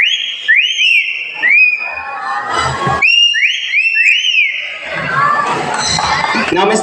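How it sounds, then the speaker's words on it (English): At a bird show, a bird gives a series of bright, rising-and-falling whistles in quick bursts, set against a cheering, shouting crowd of children and adults. "Next is a whistle."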